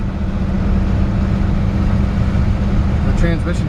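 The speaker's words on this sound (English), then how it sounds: "The engine starts with turning the key." A 1968 Jeep Kaiser Wagoneer engine runs steadily with a low rumble throughout, loud and close, with a brief voice near the end.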